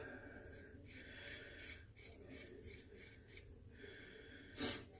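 A razor shaves through four days of stubble, making soft rasping strokes in a steady rhythm, close and faint with no talk.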